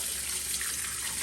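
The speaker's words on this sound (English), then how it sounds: "just add water in here and then wash out the chemical" Steady tap water runs into a vessel of nixtamalized corn soaking a day later, a continuous broadband splash filling and rinsing the grains, close and even throughout with no voices.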